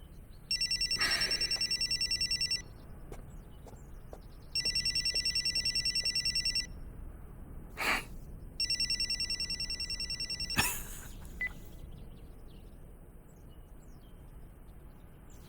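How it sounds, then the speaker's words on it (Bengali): A telephone bell in a Chinese film scene rings in three long bursts with short pauses between, loud and close, with a couple of sharp knocks and a faint background hum. "আপনার ফোন।"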